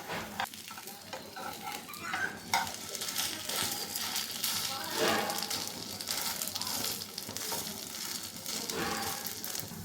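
A semolina-topped pancake cooks over a medium flame in a pan, with a steady, soft sizzle of frying running throughout. It is close, fairly quiet and without speech.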